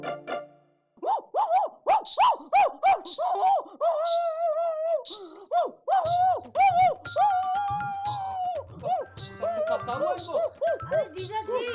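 A woman imitates a dog's barking with a rapid series of sharp, yappy vocal barks and whines, loud and close, in a comic indoor scene with a faint jingle near the end.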